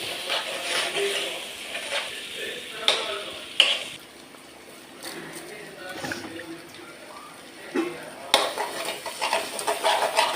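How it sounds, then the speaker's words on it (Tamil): Steady sizzling of hot oil tempering black pepper, with occasional stirring and clinking of a utensil against a pan, close by. "வந்து மிளகு தான் போட்டு தாளிக்க போகிறேன்"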